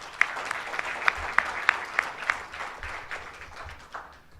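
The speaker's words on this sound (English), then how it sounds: "Please give them a big round of applause." Audience applause for a student team from National Chiao Tung University, Taiwan, at a competition final round, with a few sharp nearby claps standing out over a softer, fairly quiet crowd clapping that gradually fades.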